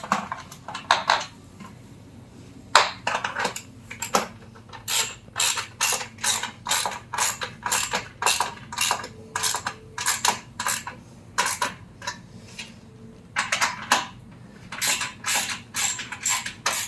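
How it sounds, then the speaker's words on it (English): A ratchet clicks repeatedly while tightening the joints of a Vego raised garden bed, bursts of quick close clicks separated by short pauses, no talking. "now I've got all the joints tightened"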